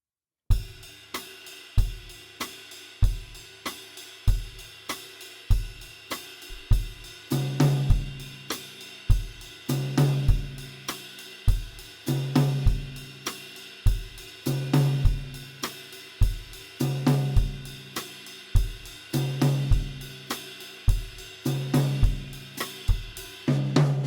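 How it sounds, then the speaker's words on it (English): Repeating cha-cha style drum pattern with steady kick hits, crisp rim clicks on 2 and 4 moving to tom strokes partway through, a Latin-style groove played solo and close. "I'll start with the rim click on 2 and 4, and then move it to the tom."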